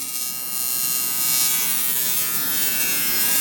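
A welding machine runs on aluminum intercooler piping for a turbo Integra build, giving a steady loud electric buzz and hiss that swells slightly and holds without a break, with no one talking over it.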